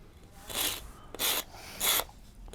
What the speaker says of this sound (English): And start using the rasp